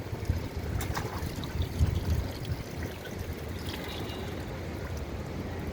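Water poured from a container onto garden plants, a continuous close splashing trickle with a few brief bursts, fairly soft and steady throughout.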